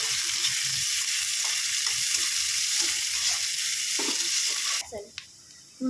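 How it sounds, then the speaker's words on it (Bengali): Onions sizzling in hot oil in a pan with dried chillies for a banana-flower and prawn dish, a dense continuous frying hiss with light stirring scrapes, close and loud, dropping away near the end after a brief clatter. "একটু ভাজা ভাজা হয়ে গেলে পেঁয়াজ দিয়ে দিলাম।"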